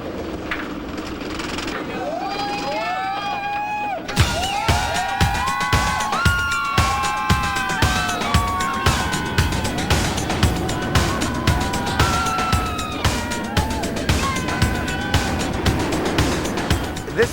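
A ride on the Montu inverted roller coaster at over 65 mph. A loud, steady rushing roar carries a rapid, regular rattling clatter, while riders' screams rise and fall throughout.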